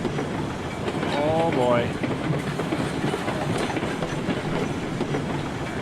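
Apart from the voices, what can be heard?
Climax locomotive pulling ore cars in video game Railroad Online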